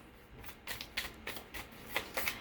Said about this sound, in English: let me get a couple of these oracle cards